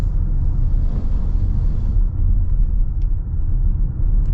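Steady low rumble from inside a 2025 Toyota Sienna Limited hybrid minivan while it drives, a smooth continuous drone of road noise that stays loud and even throughout.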